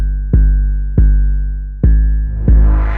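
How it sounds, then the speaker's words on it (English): Deep synth bass in a modern rap beat, four heavy booming hits with long sustained decaying tails at an irregular rhythm, loud and up front, the last one joined by a brighter layer. "with everything else in context, the bass sounds like this"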